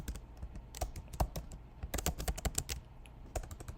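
Rapid, uneven keystrokes clatter on a computer keyboard close by, bursts of clicking with short pauses, and no voices.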